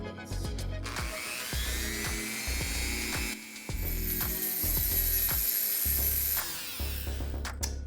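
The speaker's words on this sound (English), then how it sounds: "let's try with the Dremel" A Dremel rotary tool grinds through a thick piece of reef coral in repeated whining passes, the pitch rising and dipping as it bites and eases off, close and fairly loud with no talking.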